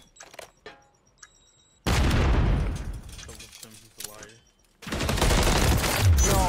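Automatic gunfire bursts in Call of Duty: Modern Warfare III, with a quiet stretch of faint clicks, then two long loud sustained volleys of rapid shots at close range.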